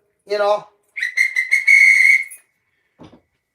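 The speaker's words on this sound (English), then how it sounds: "It's if you get hurt. That's what the whistle's for." A safety whistle is blown in a few sharp blasts, the last one a long, loud, steady shrill tone, followed by a faint brief noise after a short silence.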